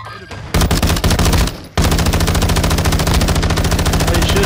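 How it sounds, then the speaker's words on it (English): Rapid automatic gunfire in Call of Duty: Modern Warfare II, a dense sustained burst after a brief pause, loud and close with a steady rattling rhythm throughout. "Why are you shooting, bro?"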